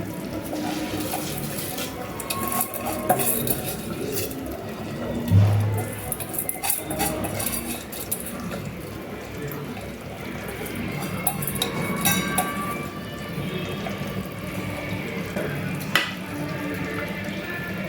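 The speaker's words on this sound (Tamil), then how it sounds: "இப்போ தண்ணி நல்லா கொதிச்சிருச்சு இப்போ நம்ம அரிசியை போட்டுடலாம்" Rice is tipped into a pot of boiling water for prawn biryani, with ongoing watery splashing and bubbling, scattered metallic clinks and pot clatter at a moderate, close-up level.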